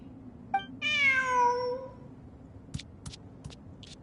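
A video game cat lets out one long, clear, drawn-out meow after a small preceding chirp, followed by a few short clicking taps in a quiet room.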